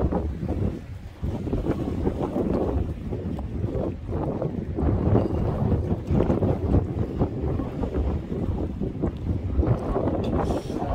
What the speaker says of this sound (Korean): 자 바람이 많이 불고 있고요